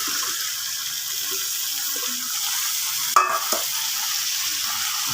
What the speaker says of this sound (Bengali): ডালটা দিয়ে একটু কষিয়ে নেবেন, তারপরে আপনার লাউটা দিয়ে দেবেন।